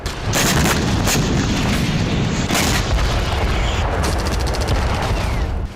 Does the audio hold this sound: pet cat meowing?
no